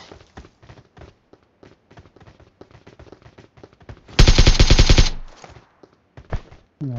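Gunfire in the mobile battle royale game PUBG Mobile: after a stretch of quick footstep-like taps, a loud close burst of rapid automatic fire lasts about a second, followed by a few scattered shots.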